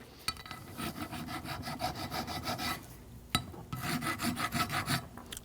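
A hand file rasping rust off a rear brake component from a 2013-2019 Ford Police Interceptor Utility, with steady back-and-forth strokes in two close runs separated by a brief pause and a sharp knock.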